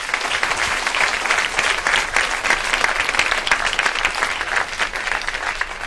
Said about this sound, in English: So this lady and all the other professors back there need a round of applause